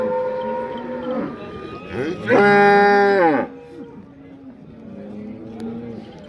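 A cow lets out one loud, drawn-out moo lasting about a second at a cattle market, with someone talking nearby before and after.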